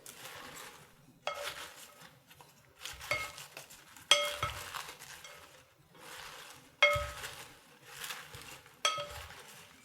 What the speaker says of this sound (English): use a bowl that has a lid and then shake the salad instead of mix it this way